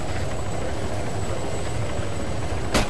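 A military helicopter in the Arma 3 video game gives a steady, loud rotor and engine drone that fills the whole stretch, with a brief sharper burst near the end and no talking.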